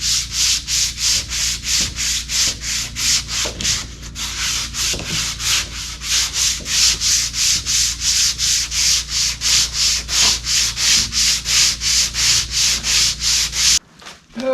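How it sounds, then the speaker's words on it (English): Boat fairing compound is hand sanded with a longboard, giving loud, close, rhythmic back-and-forth rasping strokes in a steady repeated pattern that runs for the whole stretch and halts abruptly at the end. "Now I'm going to go back to my longboard and just go over this one more time"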